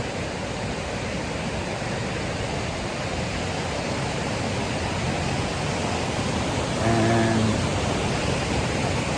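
Along the Appalachian Trail, a waterfall pours into a river with a steady, loud, close rushing roar that continues without a break throughout.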